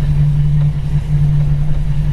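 The V8 of a 1953 Buick Super Convertible Model 56C, the first year it had a V8, runs smoothly with a steady, loud, low hum from close by.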